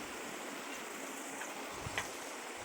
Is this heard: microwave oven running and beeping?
no